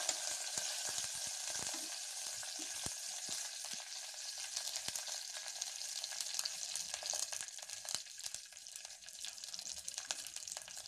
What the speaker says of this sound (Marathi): आपण हा तडका छान रेडी करून घेऊया